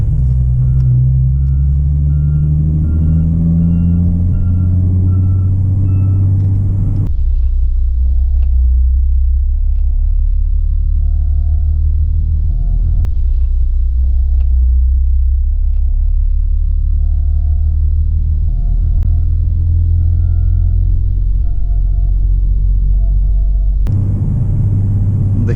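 An Oshkosh M1070 military truck engine rumbles, deep and loud and steady, with a shift in tone partway through.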